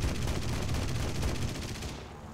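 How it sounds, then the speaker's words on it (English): LaGG-3-34 cannons and machine gun firing in War Thunder, a rapid, rhythmic burst of gunfire that hammers steadily for about two seconds before cutting off. "I'm going to now test out the cannons and the machine gun just to see how fast they fire"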